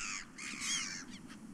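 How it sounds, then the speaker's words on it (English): Birds caw in the survival game Stranded Deep, several harsh crow-like calls repeating in quick succession, fairly close and clear over a quiet background. "There's birds over here now."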